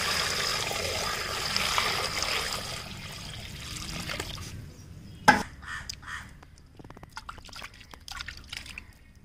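Fish head, a vatta fish, being rinsed under running water, a steady close trickle and splash for the first several seconds, then quieter scattered drips and a sharp knock partway through.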